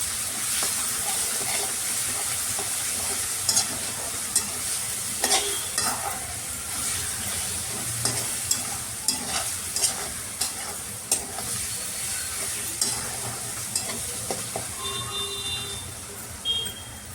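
Ginger, garlic and chili paste fries with onions in a pan, giving a steady sizzle and hiss throughout, punctuated by repeated clinks and scrapes of a spoon stirring the mixture.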